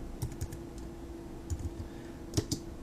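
Keys clicking on a computer keyboard, a handful of quiet, scattered presses in small clusters, including Shift and Return, close by with no voices.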